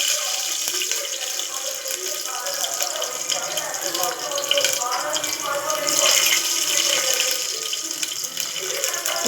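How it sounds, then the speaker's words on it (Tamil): Mustard seeds sputter and crackle in hot oil in a pan, a dense, steady hiss of popping while cooking tomato sambar, close and fairly loud, with a voice faintly in the background. "ஆயில் நல்லா காஞ்சிடுச்சு இதில் நம்ம வந்து கடுகு போட்டுக்கலாம் கடுகு நல்லா பொரியுது"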